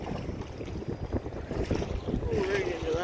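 A canoe is paddled through water against the wind in a provincial park, with soft splashes and water swirl under steady wind rumble on the microphone.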